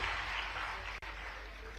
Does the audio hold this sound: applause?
yes